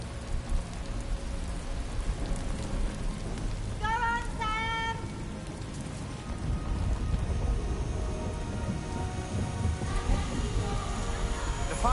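Steady heavy rain pouring in the video game Death Stranding 2, summoned by the character Rainy, with low rumbling thunder underneath and a voice talking briefly partway through.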